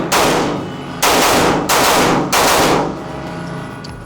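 Four loud, close gunshots from a Staccato HD P4 pistol, spaced roughly evenly and spread across about three seconds, each shot ringing on with a long echo into the next.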